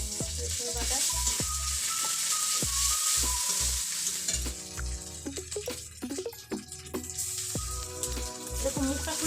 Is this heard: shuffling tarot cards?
no